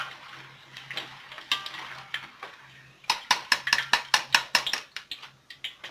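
Battered tempeh being lifted from a frying pan: sparse metallic clinks at first, then a quick run of sharp, close utensil taps and scrapes against the pan over a faint background hum.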